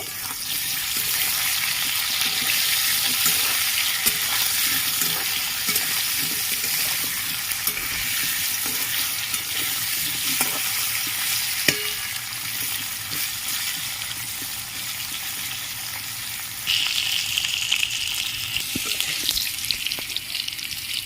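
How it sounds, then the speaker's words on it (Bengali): Potatoes fry in oil until browned, producing a steady, dense sizzling hiss close by for about twenty seconds, with scattered stirring clinks and a brief louder flare near the end. "লাল করে ভেজে নেব"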